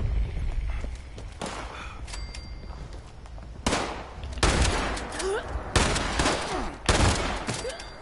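Gunfire in the post-apocalyptic shooter Fallout 76, a string of sharp, loud shots fired in uneven bursts of single cracks and quick volleys, close and dominant over faint background ambience.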